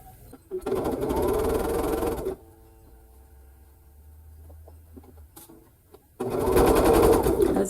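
A sewing machine stitches a Christmas sampler quilt block in two close, loud bursts of rapid whirring, separated by a quieter pause with soft handling noises.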